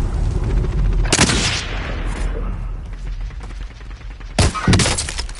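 Gunfire erupts in the online shooter Call of Duty Warzone: two loud, sharp bursts of rapid shots, one early and one near the end, stand out over quieter in-game ambience.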